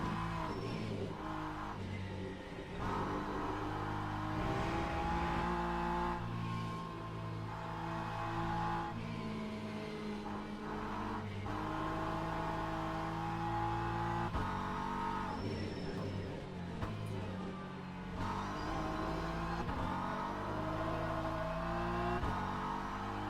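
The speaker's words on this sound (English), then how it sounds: "Hypercar is passing through. Another hypercar passing through." Engine drone of cars in the Le Mans Ultimate racing game at the Fuji circuit, with hypercars passing through: a continuous loud revving hum with shifting pitch that swells and fades as the cars go by.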